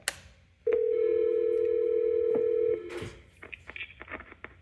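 A Cisco 7821 IP phone placing a call to another extension: a steady tone holds for about two seconds, then a sharp click and a few short beeps and clicks follow, close and clear.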